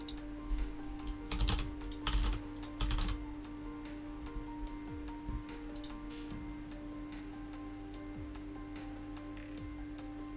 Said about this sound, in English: I really wanted to show you like how the typing can work